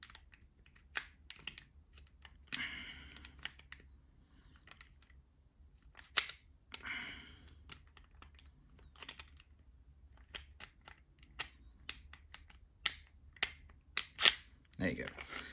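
The barrel of an Atomic Armory 1911 pistol is worked out of the slide by hand, giving quiet, sporadic metallic clicks, clacks and brief rattles up close against near silence.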